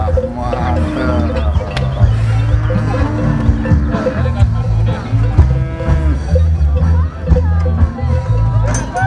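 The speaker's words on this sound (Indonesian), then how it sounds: "Narik sapi Brahman dengan berat 1 ton lebih." Brahman cattle, animals of over a ton, low loudly and repeatedly in a busy outdoor setting, their deep drawn-out moos overlapping with crowd chatter and voices nearby.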